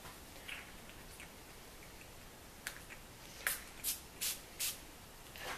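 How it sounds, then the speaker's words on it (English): Several short hissing bursts from a spray bottle of lubricant onto a car headlight and pad, four in quick succession, close and fairly quiet against a soft background. "we're going to spray our headlight and our pad with the lubricant"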